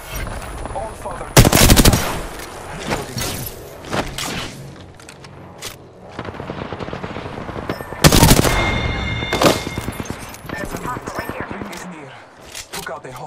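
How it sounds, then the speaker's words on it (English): Bursts of automatic gunfire from the Apex Legends video game, loud and near, coming in two heavy volleys with scattered single shots between, over game music and voice-over. "I am taking fire, friends."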